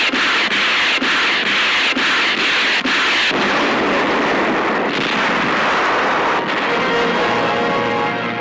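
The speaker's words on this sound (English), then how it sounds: "The city of Zweibrücken in the Saar is pounded by United States 7th Army weapons, including rocket-firing tanks." Artillery and rocket-firing tanks of the US 7th Army bombarding the city of Zweibrücken in the Saar, heard as a loud, continuous roar and rumble punctuated by several sharp booming impacts, with no voices.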